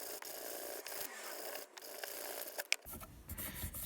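Wooden edges hand-sanded with 220 grit sandpaper, producing soft, close rubbing and scraping strokes in an uneven rhythm, faint and brief, with some handling noise near the end.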